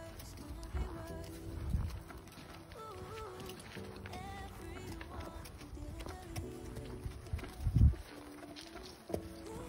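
A horse walks during a horseback ride at Luella Stables in Griffin, Georgia, its hooves giving faint, irregular clip-clops. Breezy outdoor noise runs throughout, with a couple of louder thumps.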